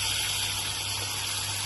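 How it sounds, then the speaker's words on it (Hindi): A little water poured into cooking masala for a lauki paneer dish gives a steady, close, continuous watery rush with a low hum underneath, running throughout. "ये मैंने थोड़ा सा इसमें पानी डाला"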